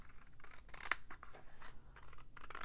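Scissors trimming the overhanging edge of a paper coloring page, a quiet run of crisp snips and rustling paper, one cut sharper than the rest, up close with no talking.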